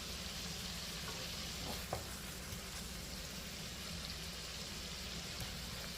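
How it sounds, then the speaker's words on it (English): Cajun shrimp frying in a pan over low heat, giving a steady, close sizzle with faint stirring scrapes and a soft clack near the two-second mark, with no one talking. "we're going to allow it to continue cooking while stirring until the shrimp are firm."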